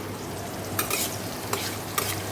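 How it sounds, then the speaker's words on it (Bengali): Meat masala sizzles steadily in a pan as it is stirred and fried, with three short scraping strokes of the spoon standing out over the continuous frying hiss, no voices. "ভালো করে মাংসের মশলাটা কষিয়ে নিই"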